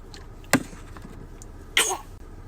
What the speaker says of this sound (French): toi tu tousses et tu pètes en même temps